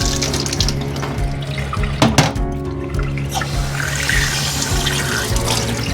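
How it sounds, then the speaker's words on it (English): Fresh tap water runs steadily over a freshly caught crayfish being rinsed in a sink. The stream is close and continuous, with a few splashes and handling knocks. "I know the purists don't like washing the crays with fresh water, but I don't mind."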